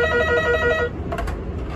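An office telephone at a suicide-prevention hotline rings with a sharp, close electronic trill for about a second, then stops, leaving faint room noise.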